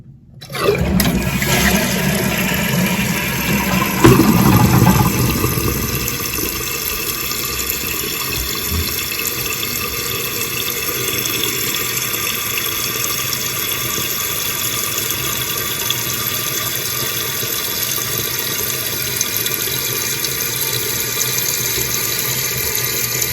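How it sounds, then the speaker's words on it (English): A toilet fitted with a new fill valve flushes in a loud rushing surge, then the tank refills with a steady, close hiss of water running through the valve that continues evenly with no voices. "So we can go ahead and flush it and see how that's going to work again."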